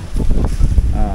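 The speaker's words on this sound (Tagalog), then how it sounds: "So medyo mahangin tayo." Wind buffets an outdoor microphone beside a Trek Marlin 6 mountain bike with a rigid fork, a steady low rumbling roar that fills the whole moment with brief gusty swells.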